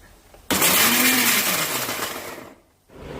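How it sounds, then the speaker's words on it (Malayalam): A mixer grinder pulsing coconut pieces roars loudly in a two-second pulse, winds down, then kicks on again briefly. It is close, with no talk. "നമ്മളൊരു മിക്സിയുടെ ജാർ എടുക്കുക. അതിലേക്ക് ഇതിനെ ഇട്ട് കൊടുത്തിട്ട് പൾസ് ചെയ്യുക."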